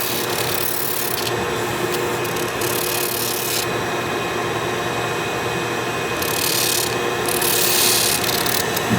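A briar pipe is hand sanded with sandpaper in a close, continuous rasping rub that keeps a steady rhythm with small shifts in stroke.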